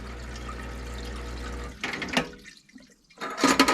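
A JEGS 5-gallon parts washer splashing as automatic-transmission parts are cleaned: a steady low pump hum that cuts off, followed by close, uneven bursts of splashing and dripping liquid.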